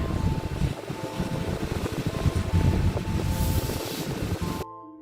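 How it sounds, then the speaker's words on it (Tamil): Train passing over a level crossing, a steady loud rumbling roar of rolling wheels and cars with faint high squeaks, continuing for several seconds before cutting off abruptly. "அந்த லெவல் கிராசிங்ல ட்ரெயின் கிராஸ் பண்ணிட்டு இருக்கும்போது"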